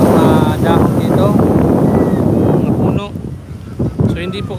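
Strong typhoon wind roars and buffets the microphone with a low rumble, choppy sea water sloshing underneath, while a person talks over the gusts on the coast of Camarines Sur.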